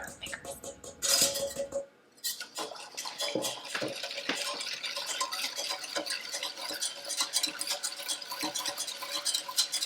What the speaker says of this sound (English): we're going to take that sugar mixture, dump it in there, and whisk it vigorously until it's combined